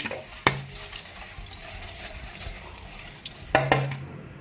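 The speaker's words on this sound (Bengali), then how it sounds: "নুন হলুদ মাখিয়ে নিয়ে নিচ্ছি" Eggs are mixed with salt and turmeric in a bowl, with scraping and stirring sounds and a few sharp clinks of a utensil against the dish.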